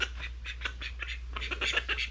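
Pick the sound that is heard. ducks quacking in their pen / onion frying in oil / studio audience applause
ducks quacking in their pen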